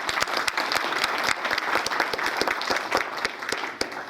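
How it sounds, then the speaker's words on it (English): Lively audience clapping for trustees at a mural unveiling, with sharp individual claps cutting through a steady wash of applause from a close crowd, and no talking. "So another round of applause for our trustees."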